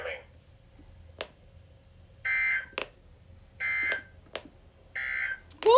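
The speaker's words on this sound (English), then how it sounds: "This has been a test of the NOAA weather radio warning alarm device." A NOAA weather radio warning alarm tone on a Uniden radio: three loud, steady tone bursts of roughly a second each, with a fainter burst at the start and sharp clicks between them, heard alone.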